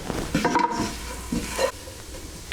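Flour cooking in olive oil and butter for a potato dauphinoise sauce sizzles close by while being stirred, with scraping strokes over a soft frying hiss.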